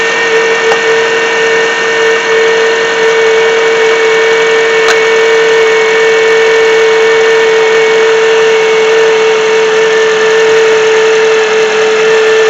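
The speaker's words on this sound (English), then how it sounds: "as you can hear, there is that hazing sound. Hazing sound tells me that it's got a bad alternator in it." A 2007 Honda CR-V engine with a failing alternator runs steadily, giving off a constant loud whining hum with a sharp tonal drone and faint high buzz, unbroken and close, with no talking.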